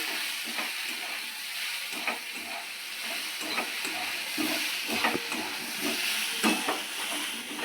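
Slit green chillies and turmeric fry in a pan with a continuous soft hiss and crackle, dotted with faint scattered clicks of stirring, fairly quiet and even throughout.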